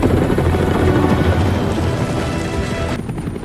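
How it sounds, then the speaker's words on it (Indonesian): A heavy aircraft airlifting two ships, a loud steady rotor-like drone with rumbling wind and rain-like noise that stays dense throughout, then eases slightly near the end. "kini Joe memutuskan untuk membawa kedua kapal ini menggunakan pesawat"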